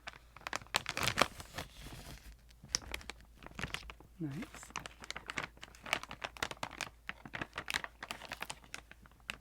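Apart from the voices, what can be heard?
opening crinkly snack packaging bag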